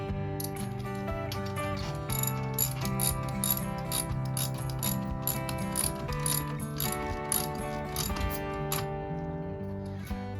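A ratchet cranks a wheel chock tight between the tires of a Coleman LT 214BHWE travel trailer, rapid rhythmic clicking in a steady run of strokes, close and clear with no talking.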